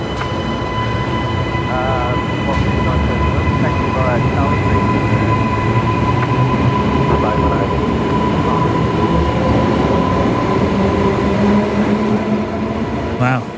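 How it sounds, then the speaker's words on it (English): The Brisbane Airport air train passing, a loud, continuous rumble of rail wheels with a steady tonal whine and faint squeals, close and sustained throughout, with indistinct voices underneath. "Wow, air train's noisy today."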